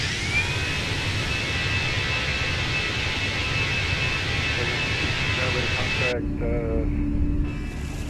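Steady, loud broadband roar of an Airbus A320 engine in flight in the Fenix flight simulator, a continuous whine over low rumble that thins abruptly near the end, leaving faint tones and hum.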